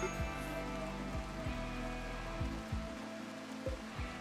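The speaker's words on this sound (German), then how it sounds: "Es regnet." Steady rainfall in the video game RimWorld patters continuously under soft background music, with a few low thuds spaced through it and no voices.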